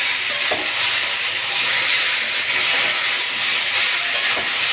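Spiced tomato masala with ginger paste, green chili, salt, turmeric and a little sugar sautéing in a pan, giving a steady, close sizzling hiss with soft stirring scrapes and no talk.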